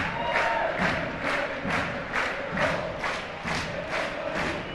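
Spectators at an Örgryte versus Falkenberg football match chant in a steady rhythm, with loud crowd surges pulsing about twice a second throughout.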